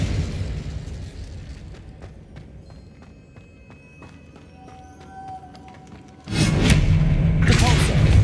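Spell explosions in the Hogwarts Legacy video game: rumbling blasts and thuds with scattered clicks and tones, easing off midway before a loud burst erupts and sustains to the end.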